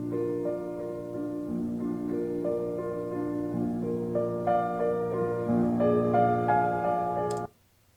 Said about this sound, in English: It sounds exactly like the intro to Schubert's Ave Maria.